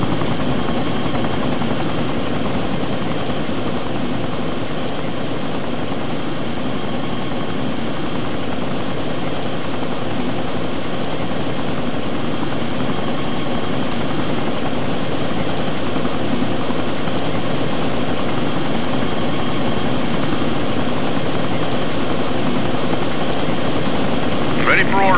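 Steady, loud rotor drone of a game helicopter in ArmA 2, a continuous whirring thrum throughout with no pauses, close and constant under occasional radio-style talk.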